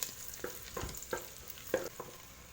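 Chicken frying in ghee with chopped garlic and ginger, giving a quiet steady sizzle broken by several soft stirring scrapes, close but low in level, with no voices.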